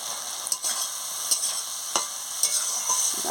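Rui fish curry with salt is stir-fried in a pan, a steady close sizzle punctuated by four or five rhythmic scraping strokes of a spatula, loud and without voices.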